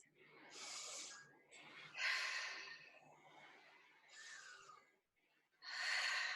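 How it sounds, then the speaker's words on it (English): Slow, deep breathing during a fitness class of wall exercises, several long airy inhales and exhales close to the microphone, with quiet gaps between them. "Take 2 deep breaths"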